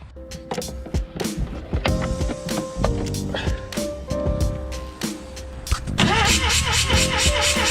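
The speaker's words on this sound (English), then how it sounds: "Let's crank it over with the comp tester" A starter motor cranks the rotary engine of a 1979 Mazda 323 with a compression tester fitted, a fast, rhythmic chugging, steady and close, with a person speaking over it.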